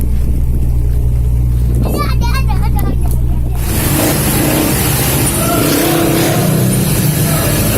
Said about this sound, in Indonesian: Dia mau mutar mobil bus dengan muatan yang super banyak di dalam parkiran kapal